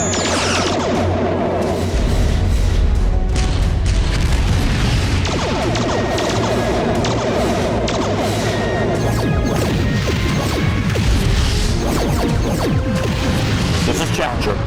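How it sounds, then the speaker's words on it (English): Starship weapons fire during a space battle in a Star Trek audio drama about the Romulan War, a dense, loud barrage of booms, crashes and bursts layered with music and effects for the whole stretch. "Our ships opening fire."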